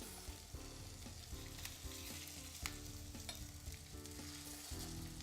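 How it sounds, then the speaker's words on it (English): Salmon fillets fry in hot oil with a dense, continuous sizzle and crackle, faint but even throughout, with occasional pops and no voices. "And so our salmon is cooking."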